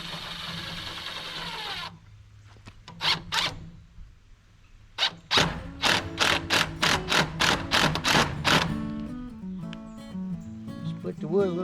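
A screw is driven into the wooden frame of a dog gate at a homestead, with a power driver whirring in a series of short, rhythmic bursts and creaking wood, close and fairly quiet.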